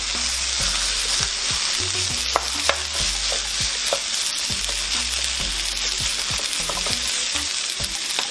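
Rice with zucchini being stirred and fried in a hot pan for nasi goreng, a steady loud sizzle throughout with repeated scraping stir strokes, no talking.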